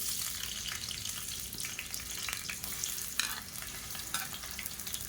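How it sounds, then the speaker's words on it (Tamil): Sliced onions sizzling and crackling in hot oil, a steady dense frying hiss with occasional stirring scrapes, close up and without talk. "எண்ணெய் சூடானதும் மீடியம் சைஸாக 2 பெரிய வெங்காயம் நீளமாக நறுக்குனதை சேர்த்துக்கலாம்."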